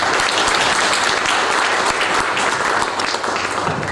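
Dense, steady audience applause fills the room at a press and fan meet for a singer at the Sofitel Imperial, with no pause in the clapping throughout.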